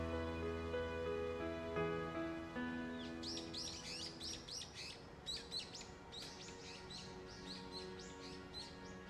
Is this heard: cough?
no